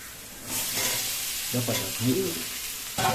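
Potato pieces hit hot oil for a steady, loud sizzle while a utensil stirs them, with a few scraping bursts and clatters near the end, during a Bengali coconut-milk egg malai curry cook.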